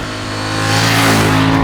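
A KTM 990 Duke R motorcycle engine revs loudly and up close, its tone climbing steadily in one continuous pull with no voices.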